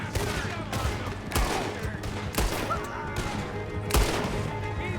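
Repeated pistol shots crack in a Red Dead Redemption 2 shootout on horseback, loud irregular bursts spaced across the scene with game dialogue and ambient noise underneath.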